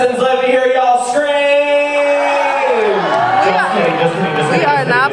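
College orientation crowd on move-in day screaming and whooping, loud sustained voices with rising and sliding yells layered together, close and energetic throughout.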